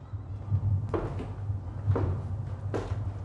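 A door clicks and knocks open after being unlocked with a pin, giving three sharp, close transients over a steady low hum in an indoor room.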